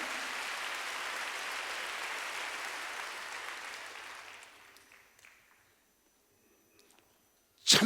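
A church congregation at a Korean worship service applauds loudly, a dense roar of clapping that holds steady for about four seconds, then fades into near silence before a sudden loud knock at the end.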